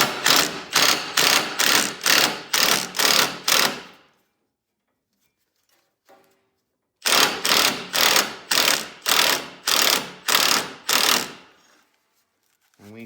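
A 1/2-inch socket wrench ratchets a 5/16 tensioner rod on a 44c mower deck under a Cub Cadet 1211. Two close, crisp runs of about seven ratchet strokes each are separated by a few quiet seconds.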